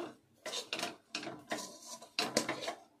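Almond barfi sweet mixture being stirred continuously in a pan, producing repeated rhythmic scraping and rubbing strokes of a spoon against the pan, close and moderately loud.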